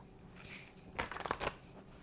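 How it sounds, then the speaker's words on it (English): A short burst of tarot cards being shuffled, a quick riffle of crisp rustling flicks lasting about half a second, close and otherwise quiet. "One last shuffle."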